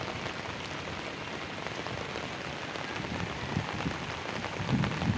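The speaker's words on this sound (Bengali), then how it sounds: "দারুণ বৃষ্টি হচ্ছে" Heavy rain pours steadily outdoors, heard from up on a rooftop: a dense, even wash of drops that stays loud throughout and swells slightly near the end, with no voices.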